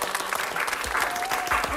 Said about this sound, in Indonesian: Tanpa berlama-lama kita sambut dan beri tepuk tangan yang meriah untuk Dr. Revin Fiona Cynthia.